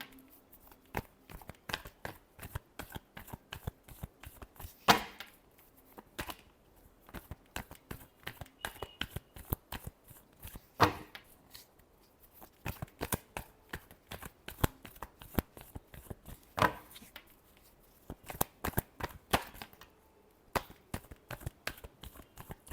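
Tarot cards are shuffled by hand in quick, crisp riffling bursts, repeated in an uneven rhythm with brief pauses, close and alone.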